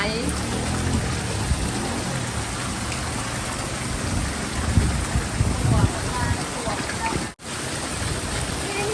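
Water flowing steadily through a tilapia fish stream, a continuous broadband rushing wash that stays fairly loud and close throughout, with a brief dropout near the end.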